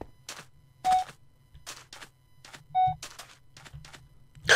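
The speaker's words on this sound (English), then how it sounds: "That beeping's just, making me nervous." Beeps in the Minecraft game Alien Isolation adventure sound as two short, clear electronic tones about two seconds apart over faint clicks and muffled background noise.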